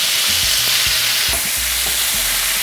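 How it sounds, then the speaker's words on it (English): Bacon frying in a very hot pan over medium-high heat, giving a steady loud hiss and crackle with a few soft knocks, no voices. "So we're just going to start with the bacon. Got that nice sizzle, so you know it's hot enough."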